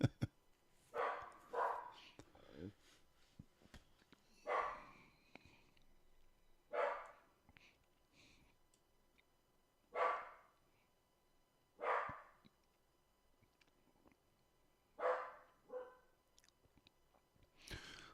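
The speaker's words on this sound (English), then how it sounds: "now Max is barking" A dog barking indoors, about eight separate loud barks spaced a second or two apart with quiet gaps between them, heard alone without talk.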